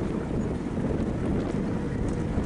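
Wind rushes against a rider on a Rad Power electric bike, a steady, loud, low buffeting roar across the microphone throughout.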